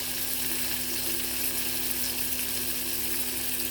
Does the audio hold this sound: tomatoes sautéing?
yes